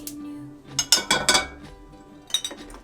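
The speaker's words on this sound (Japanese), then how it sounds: "まずフライパンを火にかけましょう。" Frying pan set on a kitchen stove: several metallic clanks and clinks of cookware in two short clusters, close and fairly quiet, with no talk.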